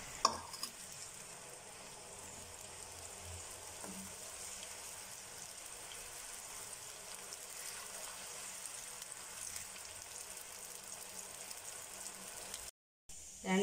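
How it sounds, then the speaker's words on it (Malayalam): Squid frying in a pan for squid biryani makes a faint, steady sizzle that lasts throughout, with a brief dropout near the end. "കൂന്തൽ ഫ്രൈ ചെയ്യാൻ ഇട്ട് കൊടുക്കാം. നന്നായി ഒന്ന് ഫ്രൈ ചെയ്തെടുക്കാം."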